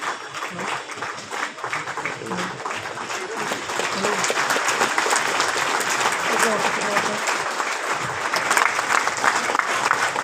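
Audience at a poetry event in Chaibasa claps for the assembled poets, a broad, sustained wash of applause that builds slightly over ten seconds, with faint voices mixed underneath.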